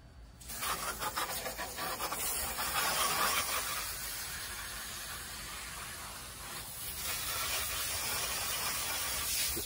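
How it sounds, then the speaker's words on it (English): Water from a garden hose sprays through a dirty air-conditioner coil with no chemical cleaner, rinsing from the inside out. The rushing hiss is steady and close, lasting nearly ten seconds with no talking. "rinse it from the inside out to push all the dirt out"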